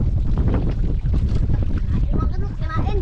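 Steady wind roars and buffets against the microphone over a constant rumble of water and a moving boat during a storm at sea, close and loud throughout.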